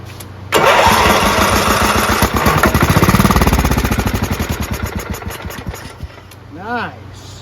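A Craftsman lawn tractor's 14HP Kohler engine, choked, cranks and catches, chugging loudly and rhythmically before settling and cutting out, with a brief rising whine near the end.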